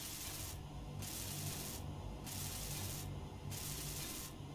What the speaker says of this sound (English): Let's weld you up.